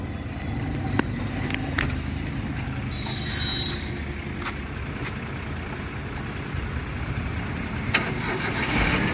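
A Maruti 800 car engine cranks and settles into a steady, fairly quiet idle with a few sharp clicks, heard close and alone.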